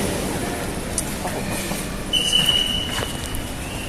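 A train at a platform: low rolling rumble with a thin high metallic squeal of wheels braking, up close.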